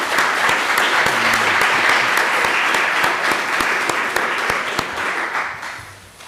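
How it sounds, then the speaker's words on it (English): An audience at a snow hydrology lecture course breaks into sustained, even applause: many hands clapping close and loud for several seconds, then tapering off. "Let us make an applause for them."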